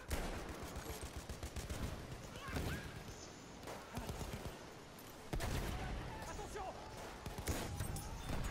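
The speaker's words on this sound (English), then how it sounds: "Oh, I shot him in the kneecap." Video game gunfire: repeated loud, sharp shots crackle through a dense, busy mix, some in quick rapid bursts and others spaced apart, with speech mixed in.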